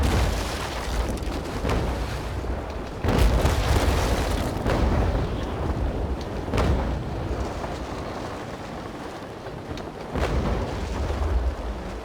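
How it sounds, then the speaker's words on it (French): Cannon broadside fire in the Naval Action sailing warship game, a dense rumbling series of heavy booms with several sharp blasts standing out over continuous loud low roar. "on va essayer de lui mettre une bonne bordée"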